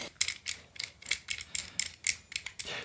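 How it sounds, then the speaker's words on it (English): Screws being undone on a camera clip: a quick run of small ratcheting, clicking mechanical ticks in an uneven rhythm, close and fairly crisp, with no talk over it. "if I just undo these screws"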